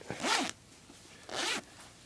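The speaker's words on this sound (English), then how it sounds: "there is a zipper pocket underneath here" Two quick zipper pulls on a pocket of a Beninese anti-poaching BDU uniform, each a bright rasping zip about half a second long, close and clear with a pause between.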